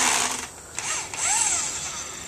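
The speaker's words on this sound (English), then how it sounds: "Lee's just screwing in that 6x6" A power drill drives a screw into a 6x6 wooden post on a farm pig pen build, giving a short loud whirring burst with rising and falling pitch, a brief pause, then a second whine; close by, with no talk.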